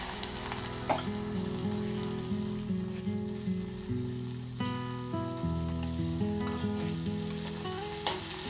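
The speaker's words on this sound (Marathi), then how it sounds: "त्याच्यातच मी थोडेसे तीळ घालते साधारण एक चमचाभर" A spoonful of sesame seeds sizzles and crackles in a hot pan with bottle gourd peels for a chutney, a steady close frying hiss with occasional stirring clinks, no speech.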